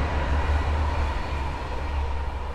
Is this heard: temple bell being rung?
no